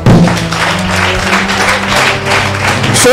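A church congregation applauding together, a steady dense wash of clapping that holds evenly throughout, loud and close, with a low sustained musical tone underneath.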